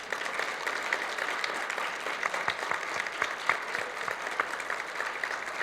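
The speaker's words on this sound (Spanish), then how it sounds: "ahora si queréis, pues un aplauso por educación y nos vamos" Steady applause from an audience at a talk at the Guadalajara International Book Fair, many hands clapping evenly for several seconds at moderate distance, with no talking.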